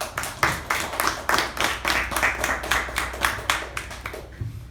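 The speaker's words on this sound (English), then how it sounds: "So can we have a huge round of applause for PP value?" A small meeting audience claps in a rhythmic, pulsing pattern, individual hand claps clearly distinct and fairly close, tapering off near the end.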